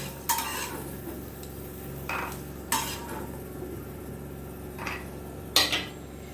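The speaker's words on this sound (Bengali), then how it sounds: "এবার বাদামগুলোকে একটা পাত্রে তুলে নিচ্ছি" Fried peanuts scooped out of a pan of hot oil into a bowl: several separate scraping clinks of a spoon against metal, spaced a second or two apart, over a faint background hiss.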